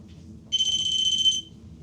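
A handheld ghost-hunting detector inside an abandoned hotel sounds a loud, steady high-pitched electronic beep lasting about a second after a short quiet lead-in, close by with no talk.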